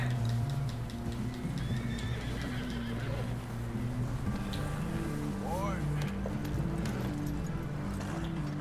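Horses whinny and neigh amid clip-clop hooves and steady ambient rumble in the video game Red Dead Redemption 2, moderately loud over continuous background game sound.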